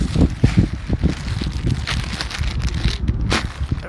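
Strong wind gusting at a beach, a steady rumbling buffet of noise across the microphone, loud and continuous with no talk.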